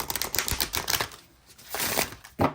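Rapid papery riffling bursts of tarot cards being shuffled, several quick runs with short pauses between, close and fairly quiet.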